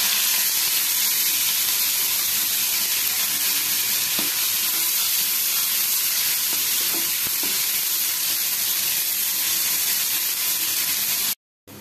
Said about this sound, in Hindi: कड़ाई रे सोरिष तेल को गरम करवा, तेजपत्र दबा, ता सहित कटा पियाज को दबा, लाल होगा पर्यंत भाजी नबा।